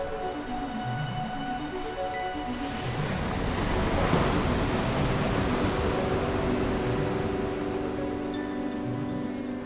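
Ocean waves wash steadily onto a beach at Koh Kood, Thailand, a broad continuous roar of surf that swells slightly in the middle, close and fairly loud with no voices.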